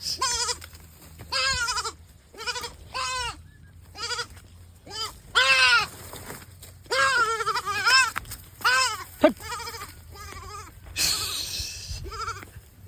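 Goats on a farm path bleat again and again in loud, wavering calls, several overlapping or following one another in irregular bursts over a low outdoor hum.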